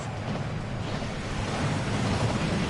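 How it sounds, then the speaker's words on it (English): The waterfall at the Gringotts vaults in the video game Hogwarts Legacy rushes as a steady, broad wash of falling water, continuous and even throughout with no voices over it. "That waterfall washes away all enchantments."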